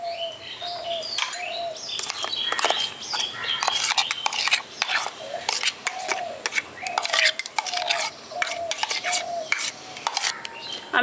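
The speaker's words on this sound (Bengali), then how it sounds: "এবার এটাকে ভালো করে মিশিয়ে নিচ্ছি।" A spoon stirs puréed mango into an ice cream mixture in a bowl, giving steady scraping and clinking strokes against the container, close and fairly loud, with birds chirping in the background.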